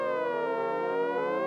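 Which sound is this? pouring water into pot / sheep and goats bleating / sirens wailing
sirens wailing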